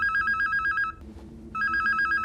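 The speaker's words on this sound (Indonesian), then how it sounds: "Tiba-tiba telepon hotel berbunyi." A hotel telephone rings in two loud electronic bursts separated by a short pause, close and clear with no talk over it.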